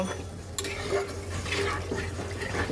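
A spoon stirs shing fish curry with bottle gourd in a pot just after water is added. It makes a continuous wet scraping and swishing, fairly close, with small clinks against the pot and no talking.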